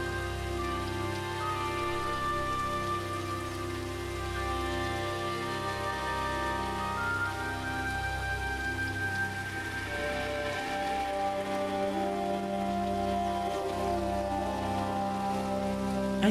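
Steady rain falls without pause in the video game Stone Simulator, a dense, even hiss that holds at one level throughout, with soft sustained tones running beneath it.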